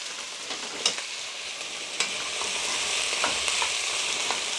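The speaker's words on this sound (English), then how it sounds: "And we'll saute it for a while until the jalapenos are a little blackened, not burned" Chopped jalapeños sautéing in a hot pan, a steady close sizzle with occasional sharp spatters and a few stirring clicks, with no talking.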